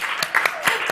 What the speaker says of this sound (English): Please give tonight's donor, Trudy, a giant round of applause